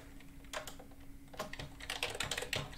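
Someone is typing on a computer keyboard, with irregular bursts of close, crisp key clicks that pause briefly and then resume over a steady low electrical hum.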